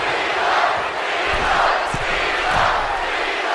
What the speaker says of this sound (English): And Cena telling the crowd to watch him.